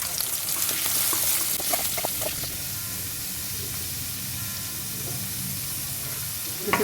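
Sliced onions hitting hot oil with mustard seeds and cumin in a pan, a loud, close, continuous sizzle and hiss with bursts of crackle and stirring clatter early on, then settling into a steady fry.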